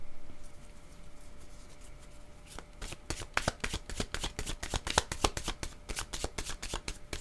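A deck of cards being shuffled for a card reading, a faint rustle at first, then a fast run of crisp riffling snaps, close and clear with no talking.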